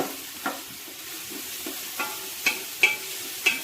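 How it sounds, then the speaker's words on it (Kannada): Masala frying in a pan for mutton curry, a soft steady sizzle with several sharp scraping stir strokes growing louder toward the end, close and without talk. "ಇದು ಕೆಂಪಾಗುವ ತನಕ ಹುರಿಬೇಕು"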